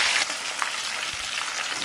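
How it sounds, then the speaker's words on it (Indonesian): Fish fries in hot oil in a wok, a loud, continuous crackling sizzle close up with brief pops, no voices present. "Kalau sudah panas, kita akan goreng ikannya."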